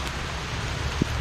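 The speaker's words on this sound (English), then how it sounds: "it is pouring down rain" Heavy outdoor rain pours down in a steady, dense hiss with a faint wind rumble, unbroken across the short stretch apart from one small knock.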